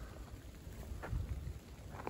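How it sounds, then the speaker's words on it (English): Freezing rain falls steadily on a mountain trail along the Appalachian Trail, a soft continuous hiss with a few slightly louder patters, faint and without talk. "it's just raining, frozen rain"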